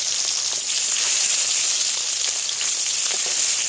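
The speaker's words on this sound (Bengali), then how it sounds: "এবার মাছগুলো দিয়ে দিচ্ছি" Pieces of bhetki fish fry in oil with a continuous, even, close-up sizzle and hiss, with no voices.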